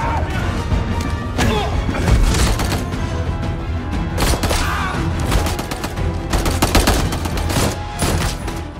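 Dense, loud gunfire fills an action film scene as an armed group storms a family's home, with rapid bursts of shots and heavy thuds crowding continuously over one another with no pauses.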